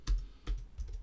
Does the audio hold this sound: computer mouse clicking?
yes